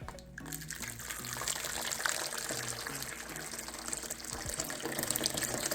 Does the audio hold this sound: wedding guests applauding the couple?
no